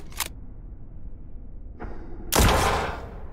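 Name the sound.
gunshot in video game Spacebourne 2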